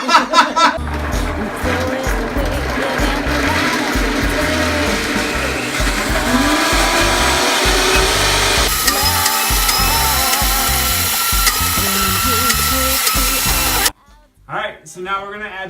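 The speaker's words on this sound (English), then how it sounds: "So now we're going to start blending this up." A Vitamix blender grinds hazelnuts with boiling water for vegan Nutella, a loud steady whirring roar that shifts pitch as it runs for about fourteen seconds before cutting off abruptly, with brief voice afterward.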